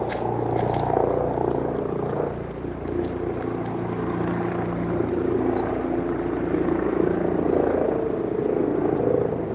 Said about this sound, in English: Helicopter going by.